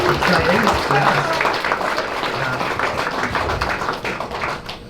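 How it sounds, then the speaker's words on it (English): Dense audience applause greets JetBlue at an inaugural flight event in Presque Isle, Maine, a steady wash of many hands clapping that holds for the whole stretch and eases slightly toward the end. "Can we give a round of applause for JetBlue?"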